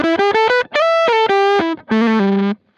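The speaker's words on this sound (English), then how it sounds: "And then the Soul Fuzz." Electric guitar through a Soul Fuzz pedal playing a short melodic phrase of staccato notes and sustained tones, thick, saturated and loud, with clean gaps between phrases and no talking.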